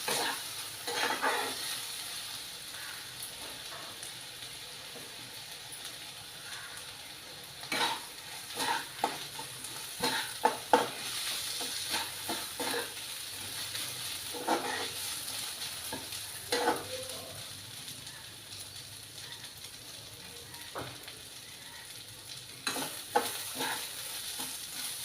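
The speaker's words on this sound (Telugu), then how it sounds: "బియ్యం అనేవి ఒక 2 మినిట్స్ వేయించుకోవాలి." Rice grains frying in an oil tempering for rice upma, stirred with a spoon in a pan: a steady sizzle with repeated scraping and clinking strokes against the metal, close and moderately loud, no voices.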